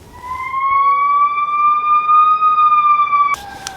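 An ambulance siren on a New York City street holds a loud, slowly rising wail, then cuts off abruptly as other street noise takes over.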